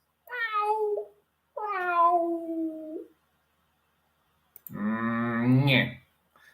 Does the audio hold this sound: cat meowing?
yes